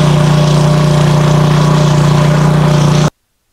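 A PowerSmart 4400-watt RV-ready generator drones steadily and loudly under heavy electrical load, a close constant engine hum that cuts off abruptly to silence near the end.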